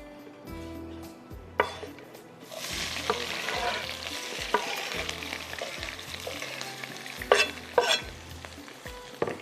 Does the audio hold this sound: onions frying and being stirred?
yes